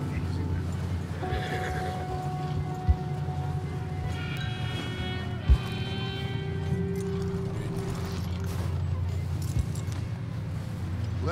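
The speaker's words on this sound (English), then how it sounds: "The horses are tired now." Horses in Red Dead Redemption 2, with a few faint hoof clops and neighing sounds set low under a steady humming background.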